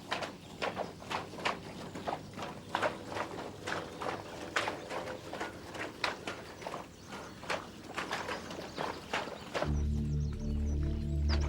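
Horses walk across spring meadows where cows also graze, their hooves giving a steady, uneven clip-clop with scattered thuds at close range before a deep low rumble takes over near the end.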